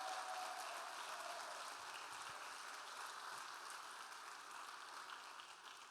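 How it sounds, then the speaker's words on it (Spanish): A church congregation applauds, a steady, even wash of clapping that stays level and fairly distant throughout. "dale fuerte ese aplauso a él."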